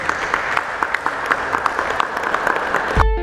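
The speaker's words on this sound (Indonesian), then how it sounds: "kita jeda sebentar dan kita aplaus untuk mereka berdua" An audience applauds two speakers with dense, steady clapping that fills the room, ending abruptly as a tone cuts in.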